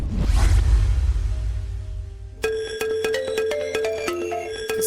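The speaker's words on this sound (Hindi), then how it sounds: "किसका फोन है?" A phone's electronic ringtone starts midway, a bright repeating melodic pattern of tones ringing clearly after a low whooshing rumble fades out.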